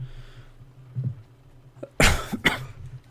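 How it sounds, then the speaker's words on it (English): Two sharp, loud coughs in quick succession near the microphone during a Factorio gaming session, preceded by faint small noises; no talking. "Can't help the coughs."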